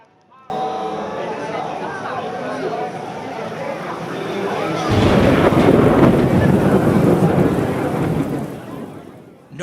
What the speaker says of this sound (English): Notice that the thunder followed the lightning